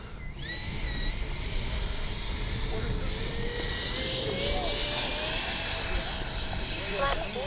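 A Freewing A-10 RC jet with twin electric ducted fans takes off, its rising whine steady and loud over a broad outdoor rush, with faint voices in the background.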